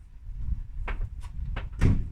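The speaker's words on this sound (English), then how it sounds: "So you can shut the door." A car door on a Nissan Almera N16 being shut, heard as a few close knocks and clunks, the last one loudest, against a quiet background.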